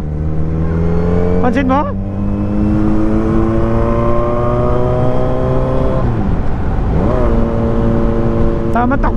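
Motorcycle riding along a road near Calamba, Laguna, with a steady engine hum and rising, falling pitch throughout, while a rider talks over it.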